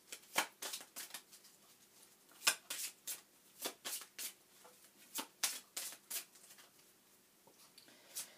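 A Lenormand deck of fortune-telling cards is shuffled by hand in a quiet room, a close, faint run of quick riffling bursts in an irregular rhythm, with no voices.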